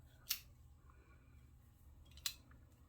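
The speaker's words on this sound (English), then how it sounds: "Just make a little snip." Two crisp, quiet scissor snips cut into fabric during a sewing project, one early and one near the end, each a short sharp click in an otherwise hushed room.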